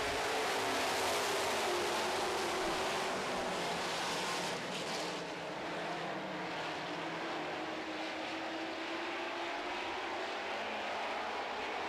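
Super stock cars racing around a track, a loud continuous roar of engines sweeping past at a distance that swells and eases, with no voices on top.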